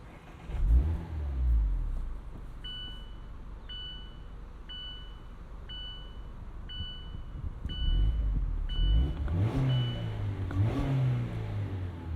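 A 2024 Mazda MX-5 Miata ND3 with a 2-liter engine and aftermarket exhaust cranks and fires up with a loud blip, settles into a steady idle with a chime beeping repeatedly, then revs twice up close.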